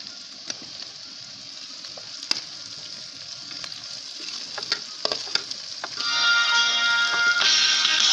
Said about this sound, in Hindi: भिंडी डालते हैं।